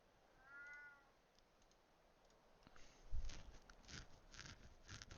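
A cat in the video game RuneScape gives a short meow, followed by a run of light clicking and tapping sounds.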